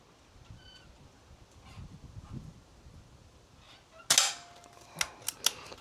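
An S400 air rifle fires pellets at a paddle target outdoors. After quiet ambience comes one loud, sharp crack, followed by a few brief metallic pings and clanks from the target.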